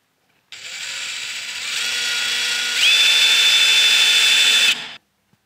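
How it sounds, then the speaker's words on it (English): A power drill whirs loudly and steadily for several seconds drilling pilot holes for a door hinge, rising in pitch partway through, then stops abruptly. No talking. "put the hinge in place, and drill some pilot holes."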